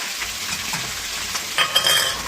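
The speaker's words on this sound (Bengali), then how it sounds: "এটা তো সেকেন্ড ব্যাচের দেখুন ফুলকপিগুলো দেখুন ভাজা চলছে" Cauliflower florets fry in hot oil in a pan, a continuous crackling sizzle with bursts of stirring scrapes and rising spatter toward the end, close and without talk.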